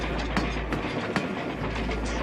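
A train in the Western video game Hard West 2 rolls past with a loud, steady rumble and rhythmic clicking of wheels over the rails, close and continuous, without speech.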